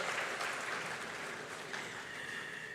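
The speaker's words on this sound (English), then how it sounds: "Let's give a round of applause again to the SGF." An audience at a ceremony marking Nigeria's 26th democracy anniversary applauds, a dense patter of many hands that is fairly loud at first and then fades gently.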